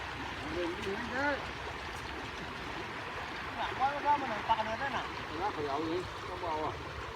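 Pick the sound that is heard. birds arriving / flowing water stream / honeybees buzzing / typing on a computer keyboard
flowing water stream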